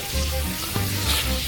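Running water rinses salted napa cabbage for kimchi, a steady close hiss and splash with no break through the short stretch.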